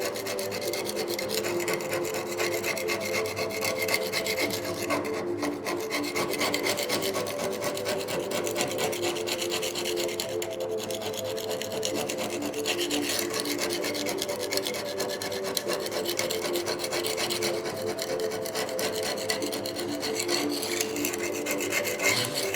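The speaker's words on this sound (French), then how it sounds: "Donc ici, vous allez juste gratter" Tile adhesive being scraped off a bar counter during tiling work, a steady, continuous rasping scrape that runs unbroken and fairly close throughout with no speech.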